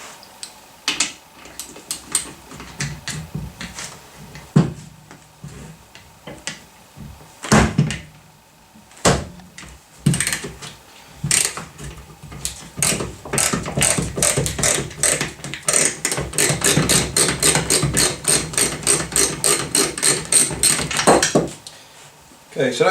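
Ratchet-like clicks and metallic clanks as a 17mm double hex socket works the security-type torque sensor nut off a Bosch Performance Line CX e-bike motor, close and loud, building into a rapid rattling burst.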